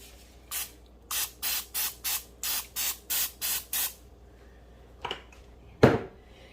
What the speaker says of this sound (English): So I am going to spray it with some cooking spray.